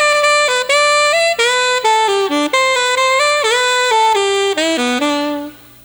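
Saxophone played in a high register without much conviction, a continuous run of clear, bright notes stepping up and down in even phrasing, loud and alone before fading out at the end.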